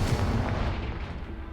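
A Confringo blast spell fired in the Hogwarts Legacy video game, heard as a loud, dense rumbling burst that fills the clip and slowly fades, with no voices.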